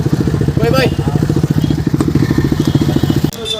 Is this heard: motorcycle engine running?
yes